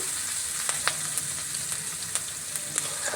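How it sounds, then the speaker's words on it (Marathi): Onion sautéing in hot oil in a kadhai, a steady close sizzle with faint crackles and a few light stirring scrapes, no voices. "कढई ठेवून तेल घालून त्याच्यावरती कांदा असा परतवून घेत आहे"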